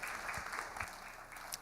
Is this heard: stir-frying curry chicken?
no